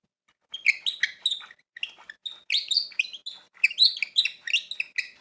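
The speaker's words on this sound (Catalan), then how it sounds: "Que té aquesta veu, el rossinyol." A nightingale sings alone in clear, bright phrases: rapid trills, chirps and whistled notes in bursts separated by brief pauses, close and fairly loud.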